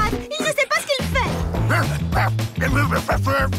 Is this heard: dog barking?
yes